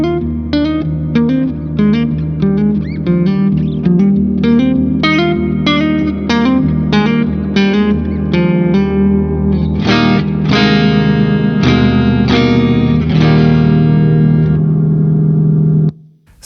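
An electric guitar runs through a Fjord Fuzz Fjær reverb pedal, picked notes and chords ringing out with washy reverb tails and a distorted edge, loud and continuous with no talking.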